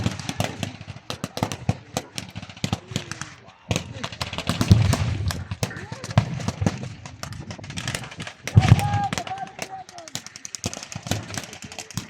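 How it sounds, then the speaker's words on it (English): Gunfire and artillery fire at a Yorkshire wartime reenactment, heard as a steady stream of sharp cracks and heavier booms, some near and some distant, with voices talking over the battle. "There seems to be artillery fire coming off of this area."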